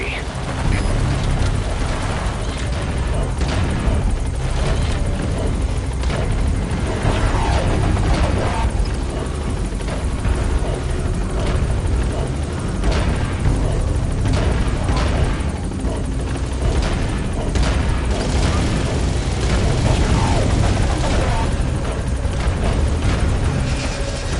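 Military helicopter in a PS4 video game, a loud continuous rotor roar with a deep rumbling drone sustained throughout, steady and close.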